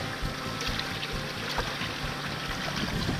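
A freshly caught octopus is rinsed and swished in seawater by hand, soft continuous splashing and trickling close by, fairly quiet with no talk.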